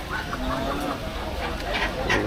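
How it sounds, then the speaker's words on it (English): Chickens clucking at a crowded poultry market in Bangladesh, birds held for slaughter, a busy mix of overlapping clucks and squawks over background market noise. "the poultry livestock"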